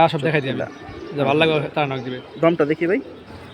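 Pigeons coo at a high-flying pigeon loft, soft low calls mixed in with someone talking nearby throughout.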